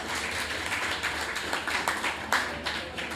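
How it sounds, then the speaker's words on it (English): An afternoon festival audience, gathered in an old fire station for a session, applauds with a dense spread of hand claps that rises and falls throughout. "you should all give yourselves a big round of applause for being here this afternoon"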